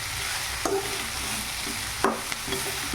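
Sliced bitter gourd sizzles and fries in a pan while a spoon stirs it. The frying gives a continuous hiss, and the stirring adds several sharp scrapes and clatters at irregular moments.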